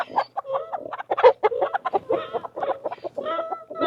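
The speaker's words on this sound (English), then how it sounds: "Hey, Mr. Rooster, what you doing?" A rooster clucking repeatedly up close, a run of short throaty clucks and low murmurs in uneven rhythm, with no talking.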